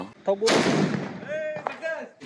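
A Diwali firecracker bursts with one loud, close bang that decays into a crackling tail, with people talking around it.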